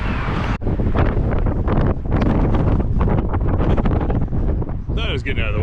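Loud, continuous wind buffets the microphone during a road bike ride on a 30-mile loop from West Hartford to Granby, a roaring, gusty rumble close up that briefly dips once, with a voice talking faintly near the end.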